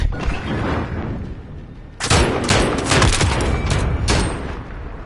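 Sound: gunfire from the video game Modern Warfare

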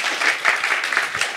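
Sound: applause

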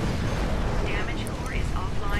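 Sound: explosion in the video game Titanfall

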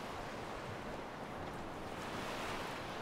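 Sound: water waves in video game Skyrim

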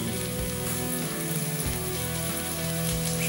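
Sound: chopped beef frying with onion in a pan

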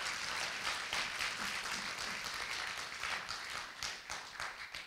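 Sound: congregation clapping

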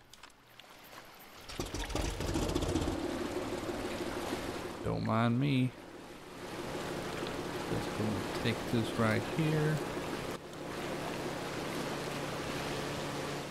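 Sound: motorboat engine in video game Far Cry 2

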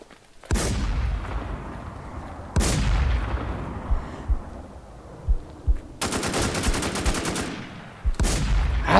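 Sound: gunfire from the video game Infestation The New Z

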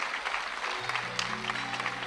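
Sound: applause from the audience

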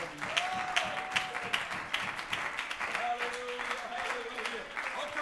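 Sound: congregation clapping hands in praise

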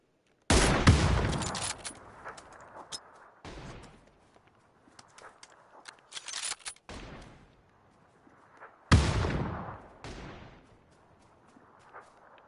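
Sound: gunfire in the video game PUBG

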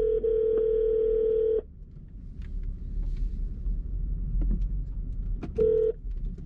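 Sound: phone call being dialed and ringing

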